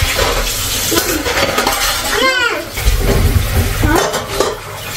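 Running water splashes over soaped dishes while pots and cutlery clink and scrape nearby, loud and close.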